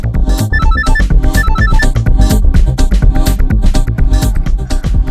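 A mobile phone ringtone plays loud and close at a party: a bright, repeating electronic melody with a steady beat, continuous throughout, and no talking over it.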